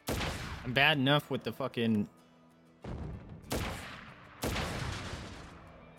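Gunfire rings out in Crisis Core: Final Fantasy VII Reunion as a few sharp, spaced shots crack out after a man's short burst of speech.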